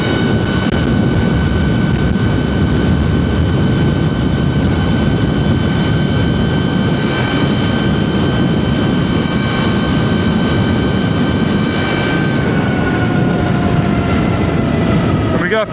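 A Surron electric dirt bike fitted with a Warp9 54-tooth sprocket and gold race chain runs at full throttle, giving a steady, loud whine and chain drone under heavy wind rush that drops slightly near the end.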